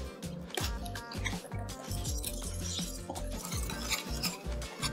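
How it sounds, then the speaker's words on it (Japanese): A utensil stirs and scrapes in a bowl, mixing milk into cheese for panna cotta, with soft wet squishing and clinking, close up and continuous. "そこに牛乳を加えてチーズを溶き伸ばしていきます。"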